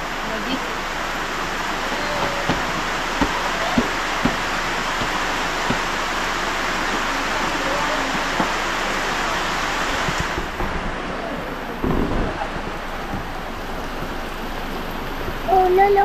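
Steady rain hisses as a dense, even wash, broken by occasional small taps and a few brief bumps nearby.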